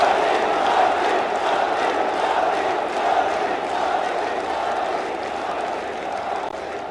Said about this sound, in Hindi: प्रिय प्रधानमंत्री श्रीमान नरेंद्र मोदी जी, एक बार दोनों हाथ ऊपर उठा के तालियां बजा के स्वागत कीजिए।